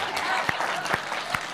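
A crowd at a comedy show and poetry gathering breaks into brief, steady applause, with a few sharper claps rising above the sustained clapping.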